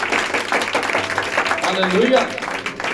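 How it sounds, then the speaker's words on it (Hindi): Church congregation clapping hands loudly in praise, a dense sustained patter of applause mixed with voices and a shouted exclamation over it. "क्या आप आशीषित है तो जोरदार प्रभु के लिए ताली बजाएं"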